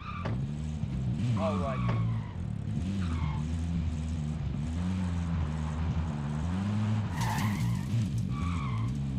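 A car in Call of Duty Warzone skids along with a droning engine and repeated tire squeals, while a player speaks briefly over it.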